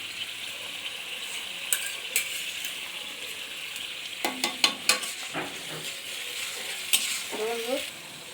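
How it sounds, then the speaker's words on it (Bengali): Onions frying in ghee, a soft steady sizzle broken by sharp clicks and scrapes of a spatula stirring in the pan, with several quick clatters in the middle and near the end. "পেঁয়াজটা দিয়ে দিলাম, একটু পেঁয়াজটা ভেজে নিচ্ছি।"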